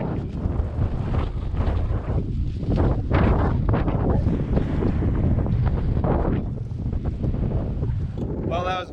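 Strong wind buffets a microphone outdoors at a T-post driving test, loud gusting roar and rumble filling the whole stretch, with a voice briefly heard at the very end.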